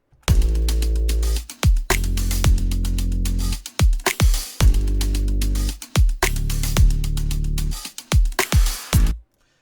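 A loud future bass electronic drum beat made in FL Studio 12, with booming bass hits and crisp percussive transients in a repeating pattern, ending abruptly.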